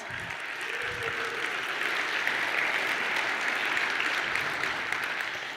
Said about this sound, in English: So it deserves a round of applause.